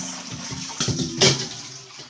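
Water running from a tap in a short burst as vegetables are washed, with splashing and a brief louder gush partway through, fairly close.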